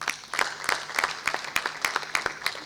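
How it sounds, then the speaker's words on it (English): Applause at a university graduation ceremony in Mbarara, a thin, moderately distant patter of hands forming clear individual claps in a loose rhythm, fairly sparse rather than a dense roar. "Another round of applause, please."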